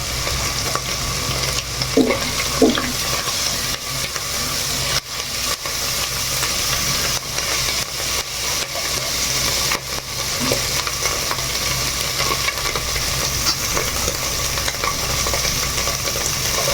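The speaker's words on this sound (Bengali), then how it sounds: "সাউন্ড শুনেই বুঝতে পারছেন চুলাটা একদম হাই ফ্লেমে আছে" Jalapeños and vegetables frying for noodles on a stove at high flame, a loud continuous sizzle and hiss with occasional stirring knocks, close and steady throughout, no speech.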